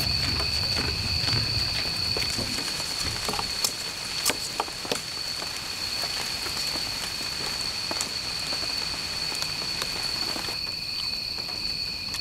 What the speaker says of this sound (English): We just got a little drizzle coming off the tree leaves above us.